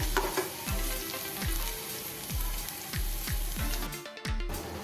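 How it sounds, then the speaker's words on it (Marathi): Ginger, garlic, green chili, capsicum and carrot sauté in a hot pan for egg fried rice, a constant sizzle with repeated scraping strokes of a spatula at a steady rhythm, close and alone. "आलं लसूण आणि हिरवी मिरची घालूया ती पण थोडीशी आपण परतून घेऊया"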